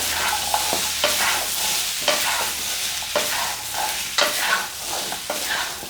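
Fried spare ribs are tossed in char siu sauce in a hot wok, with rhythmic scraping stir strokes roughly once a second over a constant sizzle, close up and with no talking.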